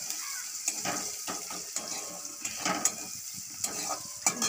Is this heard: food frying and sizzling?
yes